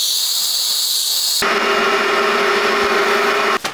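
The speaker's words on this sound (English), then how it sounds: "I am going to spend a little time steaming the inside here," A handheld steamer blasts steam inside a sneaker being restored, switching on abruptly after a quieter whine into a loud, close, steady hiss with a tonal whistle, then cutting off near the end.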